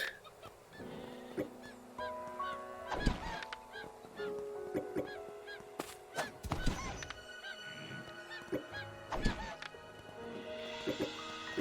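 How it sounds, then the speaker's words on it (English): Chickens squawking and honking while being struck in the survival game Craftopia, repeated bird cries mixed with hit thuds and chiming game effects over a busy backdrop. "There's missions to defeat the chickens, so that's why I'm defeating all these chickens."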